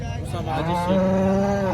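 A single long, low moo from a cow nearby at a cattle market in Kopargaon, loud and drawn out, with faint background chatter before it.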